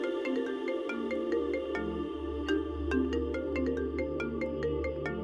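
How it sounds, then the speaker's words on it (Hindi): A phone ringtone plays a steady, repeating electronic melody of bright chiming notes over a low background hum, continuing alone without talk. "फोन आ गया।"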